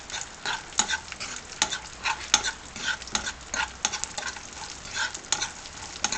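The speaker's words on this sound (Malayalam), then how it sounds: "ഇനി ഇതിലേക്ക് നമുക്ക് ഉണക്കമുന്തിരിയും കൂടെ ആഡ് ചെയ്യാം. നന്നായിട്ട് ഇളക്കി കൊടുക്കാം." Raisins are stirred into a broken wheat payasam, a sweet kheer, with repeated rhythmic scraping strokes of a spoon over a soft, bubbling simmer, close up and fairly quiet.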